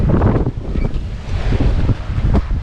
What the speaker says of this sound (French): Et le vent change, tourne.